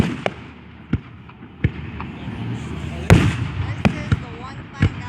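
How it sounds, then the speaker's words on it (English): Fourth of July fireworks burst at intervals, about seven sharp pops and bangs, some close and loud, others distant, with crackling between them and people talking nearby. "Fireworks."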